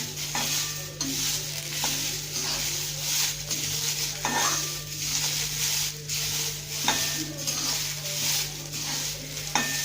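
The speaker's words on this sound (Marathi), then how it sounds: "तीळ टाकल्यानंतर अजून दोन मिनिटांपर्यंत हा हुरडा परतवून घ्या" Hurda, tender sorghum grains, stir-fried with raw sesame seeds in a pan at home, with steady faint sizzling and scraping stirs recurring throughout, and a low steady hum underneath.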